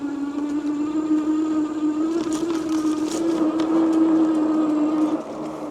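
Jansno X70 full-suspension electric bike ridden off-road on light trail, a steady whining motor hum with gravel and wind noise throughout, close and fairly loud, easing off near the end.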